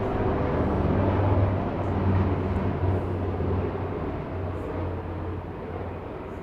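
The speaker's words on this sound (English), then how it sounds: "Let that helicopter fly by." A helicopter passes outdoors, giving a steady, fairly loud low droning rumble with a constant hum that fades slightly toward the end. No one speaks.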